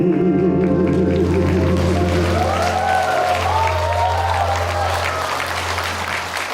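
A large audience applauds after a song at a Korean televised singing academy stage show, a broad wash of clapping under a fading sustained musical tone and a voice.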